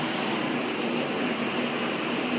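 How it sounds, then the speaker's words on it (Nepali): Water from the Khardu stream pours into an intake tank, a steady close rushing hiss with no pauses. "पानीको आवाज सुन्न सकिन्छ।"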